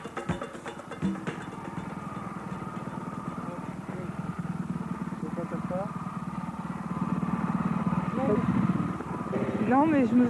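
A rally motorcycle in Paris-Dakar footage drones steadily with a mid-pitched engine note that builds toward the end, heard under continuous speech.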